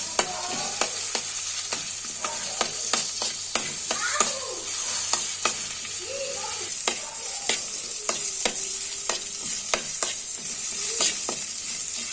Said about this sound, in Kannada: ಫ್ರೈ ಮಲ್ಪುವ